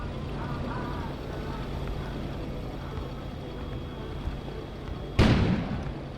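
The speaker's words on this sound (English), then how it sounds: "An explosion suddenly occurred outside." Explosion outside in the winter video game Kona: a single sudden loud boom bursts near the end over a low ambient rumble, then decays briefly.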